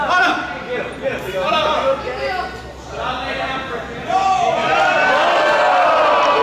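Wrestling arena crowd at a Saturday Slam show erupts in loud, sustained cheering and chatter, swelling after a brief dip and growing louder toward the end, with no clear voice on top.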